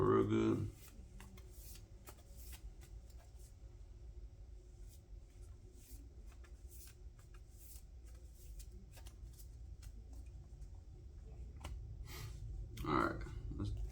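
A deck of Tearlament trading cards is shuffled by hand, with soft, quick riffles and scattered card clicks running throughout, quiet and close. A louder voice breaks in briefly at the start and again near the end.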